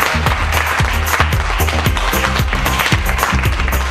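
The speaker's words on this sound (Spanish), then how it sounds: "Un fuerte aplauso" A live television studio audience claps loudly for guests, sharp dense hand claps in an energetic steady rhythm filling the whole stretch, close and full.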